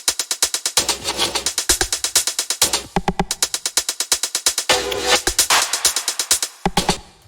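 Layered percussion loop with a 909 hi-hat among busy clicking hits, rapid dense ticking over sparse low thumps, steady and fairly loud, with no talking.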